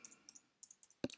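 Quick bursts of clicking keystrokes on a computer keyboard, a few light taps followed by a sharper cluster near the end, close and quiet with no talking.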